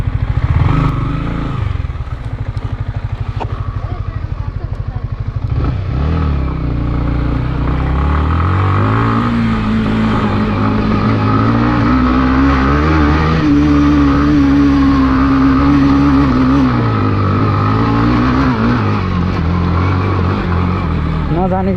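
Motorcycle revving hard as it struggles up a slope, its engine note rising and falling in long strained surges, heard close alongside people talking.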